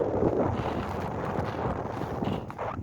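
Steady wind buffeting a microphone while out herding sheep and dogs, a continuous low rumbling roar with gusty fluctuations and no voices.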